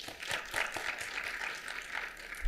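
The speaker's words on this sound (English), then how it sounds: "let's give our family members and friends a round of applause" Steady, moderately distant applause from the audience at a SUNY Downstate midwifery program ceremony honours students' family members and friends. The clapping is even and sustained throughout.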